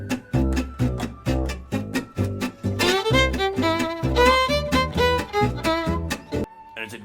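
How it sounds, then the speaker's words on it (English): Jazz music plays with punchy, rhythmic chord stabs and a walking low end, followed by a denser ensemble passage that thins out near the end; no voices are heard. "Oh, jazz is like this."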